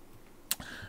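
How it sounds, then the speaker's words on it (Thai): An arrow key on a computer keyboard is pressed, giving one sharp, close click and a softer second tap in an otherwise quiet room. "ผมใช้แอโร่คีย์ที่คีย์บอร์ดนะขึ้นลงซ้ายขวานะ"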